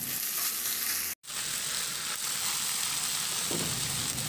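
Vegetables, including Baguio beans, stir-fry in a hot pan with a loud, steady sizzle that runs almost without a break, broken only by one very short gap, with faint scraping from the stirring.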